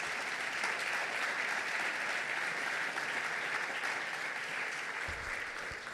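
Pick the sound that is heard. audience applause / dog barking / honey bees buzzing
audience applause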